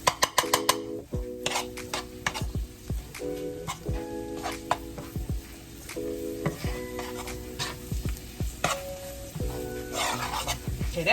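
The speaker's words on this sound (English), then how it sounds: "We're gonna saute all of this up in here together like this." A roux and broth gravy for smothered pork chops is stirred in a hot pan, a spoon scraping and clinking in repeated strokes over a steady close sizzle, with no voices.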